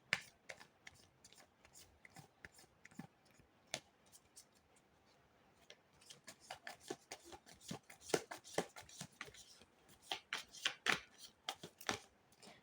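Tarot cards are shuffled close up in a quiet room: crisp, irregular flicks and riffles, sparse at first, then denser and louder toward the end.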